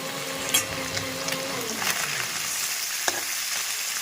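Small fish fry in a pan with a close, continuous sizzle, broken by a few sharp clicks and taps from stirring.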